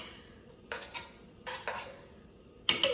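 A small spoon dolloping mashed potatoes onto the meat filling of a cottage pie in a dish: three soft clinks and scrapes spaced about a second apart, quiet and close, with no talk.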